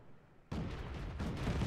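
A tank explodes in the World of Tanks video game, heard as a sudden loud, close, broadband blast that rolls on into a sustained rumble.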